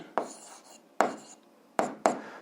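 Chalk or marker writing on a board: four short, quiet strokes, each a sharp scratchy onset trailing off, spaced irregularly.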